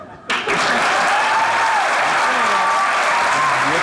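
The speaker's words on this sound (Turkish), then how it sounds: "Alkış." Studio audience applause breaks out after a brief quiet moment, a dense, steady wash of clapping that holds loud and sustained to the end.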